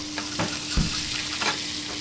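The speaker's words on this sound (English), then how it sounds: "So we started off in oil and a hot pan, and then we just put a little bit of butter in so it helps with the flavour." Scallops fry in oil and butter in a hot pan, a loud, close, steady sizzle with a few faint clinks of the pan and no voices.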